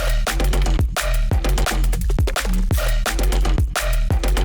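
A loud, dense music mix with a heavy low bass line under punchy drums and bright upper parts, playing continuously.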